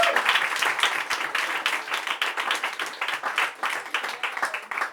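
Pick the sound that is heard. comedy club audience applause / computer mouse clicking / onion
comedy club audience applause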